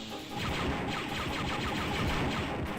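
Turrets in Star Wars: Dark Forces fire a rapid, steady barrage of repeated blasts, loud and close, continuing without pause.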